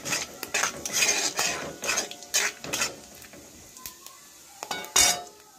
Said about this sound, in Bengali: তেল গরম হয়ে গেছে, এবার দিয়ে দেবো জিরে। ভালো করে নেড়ে নেব।